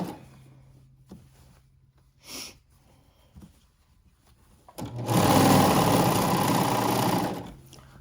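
Sewing machine stitching a seam on stretchy leggings, a fast steady mechanical whir that runs for about two and a half seconds after quiet handling noises and a brief sniff.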